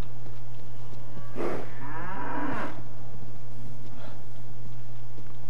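Cattle lowing in the video game Cryostasis, two long drawn-out moos close together followed by a fainter third, over a steady electrical hum and game ambience.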